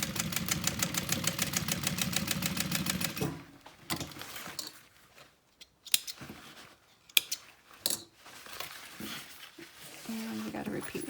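A sewing machine top-stitching backpack fabric a quarter inch from a fold runs in a steady, rapid mechanical whir for about three seconds, then stops, leaving quieter handling clatter and brief bursts of motor sound.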